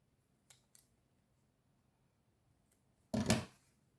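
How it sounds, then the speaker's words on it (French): Scissors cut rope for a handmade rope coaster. Two quick, quiet snips come first, then after a pause a louder, longer crunching cut, all close up with silence around them. "On va couper encore un petit peu."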